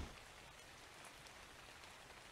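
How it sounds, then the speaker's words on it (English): Rain falling in the video game Ark Survival Evolved, a dense, even patter of drops all around, soft and continuous with no voices. "And there are drops all around us."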